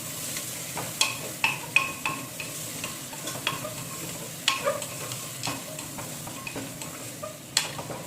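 Mutton boiling in a pot is stirred, with repeated close scraping and clinking strokes at an uneven rhythm over a soft bubbling sizzle, moderately quiet and with no talk.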